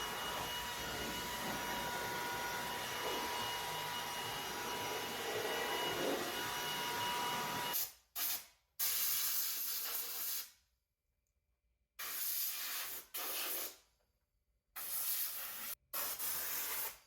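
A leaf blower drying water off a Hummer: a loud, steady rushing blast that runs unbroken, then cuts in and out in short bursts with silent gaps between them, close to the source, with no talking.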